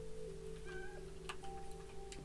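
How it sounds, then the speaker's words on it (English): A cat meows in a Minecraft modpack game, a few short tonal cries over a steady in-game background drone with faint clicks. "Hello, kitty cat."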